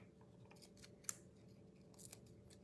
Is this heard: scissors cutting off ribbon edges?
yes